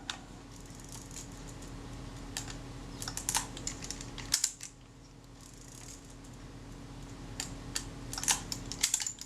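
Small clicks and ticks of a camera shutter being cocked, its cams and latches dropping into place, sound as a close, quiet, irregular run of sharp mechanical taps with no talking.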